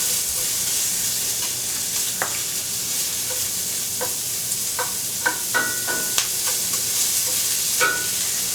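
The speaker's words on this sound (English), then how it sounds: "And when the oil gets hot, I'm going to add my onions." Onions frying in hot oil in a pan while an arame salad with edamame is prepared, a steady bright sizzle with scattered small pops and crackles throughout, close and continuous with no talking.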